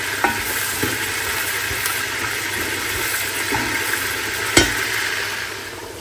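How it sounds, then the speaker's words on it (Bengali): Onions sizzle in a pan of oil left over from frying chicken, a steady close hiss broken by a few sharp clinks of a utensil stirring. No one speaks. "মুরগি ভাজা হয়ে গেছে, এখন এখানে পেঁয়াজ দিয়েছি, পেঁয়াজটা বেরেস্তা হোক"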